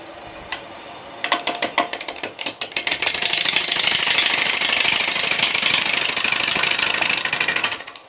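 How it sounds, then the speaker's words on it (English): A Thompson bowl gouge cutting natural-edge mesquite spinning on a wood lathe near 1,000 RPM, starting as a few sharp chattering bursts, then settling into a steady loud ratcheting rattle as the tool bounces on the wood. "I'm using my Thompson bowl gouge."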